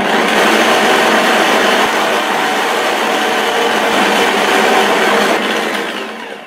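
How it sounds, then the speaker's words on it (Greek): An electric mixer beats butter with sugar for a New Year's cake, a loud steady whirring drone that holds nearly throughout and eases off at the end. "Ενώ χτυπώ το βούτυρο με τη ζάχαρη για να αφρατεύσουν"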